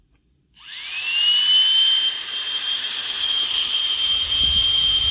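A Dyson motor fed 25 volts during a battery pack teardown switches on and spins up into a loud, steady, high-pitched whine that holds at full speed, close by and with no talking.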